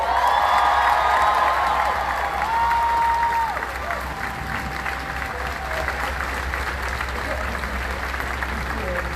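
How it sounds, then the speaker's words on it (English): A crowd at a Black Lives Matter rally downtown in Salt Lake City applauds, sustained clapping and cheering that holds steady and loud, with a few whoops rising above it for the full stretch. "Another round of applause for Rose."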